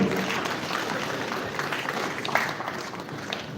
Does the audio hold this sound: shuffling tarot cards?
no